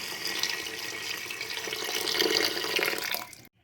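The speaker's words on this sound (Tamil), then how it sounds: "இப்போ நம்ம அளந்து வச்சுருக்க தண்ணியில் 2 டம்ளர் தண்ணியை மட்டும் இது கூட ஆட் பண்ணிக்கிறோம்" Water pours steadily into a cooking pot while making paruppu sadam, a continuous close splashing stream of even loudness that cuts off abruptly near the end.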